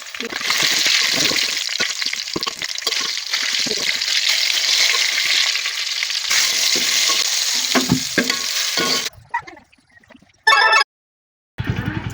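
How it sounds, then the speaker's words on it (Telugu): Garlic and tomatoes fry in a pan with a loud, continuous close sizzle lasting several seconds. Then it cuts to near silence with a few brief louder bursts. "ఎల్లిపాయలు కూడా నేను వేయించుకోవాలి టమాటాలు కూడా ఇందులో వేసి వేపుకోవాలి"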